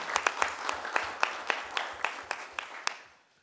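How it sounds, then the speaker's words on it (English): A round of applause from attendees at a city commission meeting, with dense clapping and a few sharper claps standing out, steady for about three seconds before fading away. "why don't we give them a round of applause?"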